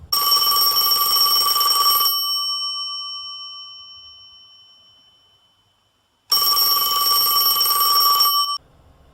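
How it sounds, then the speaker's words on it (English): An electronic telephone rings in two long bursts separated by a pause, the first ring fading slowly before the second starts loud and stops abruptly. "the phone rang again"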